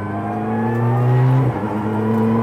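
A Renault Clio Cup race car engine drones loudly on a circuit, its steady rising tone dipping briefly as it shifts gear before climbing again, heard close.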